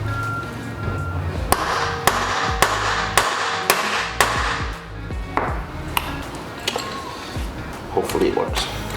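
Sharp metallic hammer blows strike a tool to loosen an R34 bumper, a run of about eight spaced ringing hits with clinks, close and loud over steady background noise.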